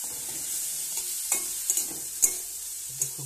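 A spoon stirs and presses spices, chilli powder and tomatoes in a sizzling pan, with a steady high frying hiss broken by a handful of sharp scraping clinks at irregular moments, close and without any talking.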